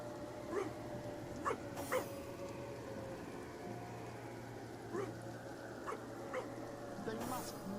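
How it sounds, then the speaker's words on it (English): A zombie dog in a video game gives short yips and barks with whimpering at scattered moments, moderately loud over a steady low game hum, with a voice talking between the sounds. "Is that a zombie dog?"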